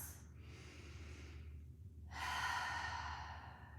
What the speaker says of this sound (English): take a couple of cleansing breaths